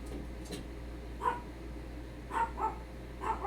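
A dog named Dipper gives a few short barks spaced apart, fairly distant and modest in level over a steady low hum, with a pause between the first bark and a later cluster of two or three.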